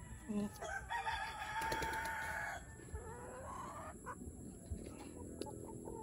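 Free-range barred rock chickens clucking close by, with a rooster crowing loudly through the first few seconds before the flock settles into softer, scattered clucks.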